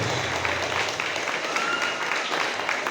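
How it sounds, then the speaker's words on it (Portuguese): A church congregation applauds in praise during a Portuguese-language worship service, steady dense clapping filling the room for a few seconds with faint voices mixed in. "Aplauda o Senhor."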